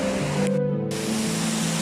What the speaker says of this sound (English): Check out the mossy world in this gorgeous roaring water.